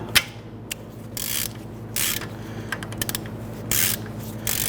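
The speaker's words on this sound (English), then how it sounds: "It is a T40, T40 Torx bit. I'm going to put that on my ratchet. I want to go ahead and loosen this." A ratchet fitted with a T40 Torx bit loosens a bolt on the front brakes of a 2010-2019 Ford Taurus, giving several short close bursts of rapid clicking separated by brief pauses.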